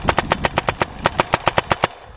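An Azodin Kaos paintball gun fires a rapid string of about fifteen sharp, evenly spaced shots up close, each a crisp pop, then stops abruptly.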